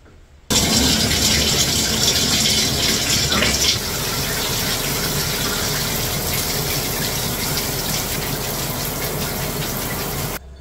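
A shower running in a bathroom at home gives a loud, steady broadband hiss of spraying water, with a brief change in tone partway through and no talking.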